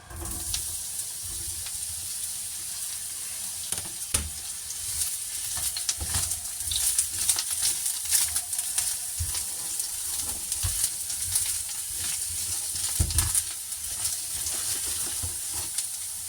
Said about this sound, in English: cutting the aubergines into little batons and stir fry them into some vegetable oil